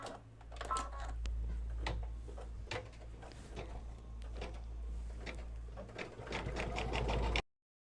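An embroidery machine stitches around the edges of a yellow applique on a mug rug, giving a close, rapid, even run of needle taps with a steady low motor hum until it stops abruptly.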